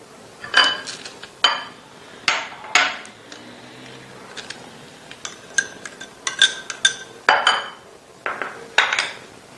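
Egg mixture with milk beaten in a bowl, a utensil clinking against the dish in repeated irregular bursts, close and fairly loud with brief pauses between strokes.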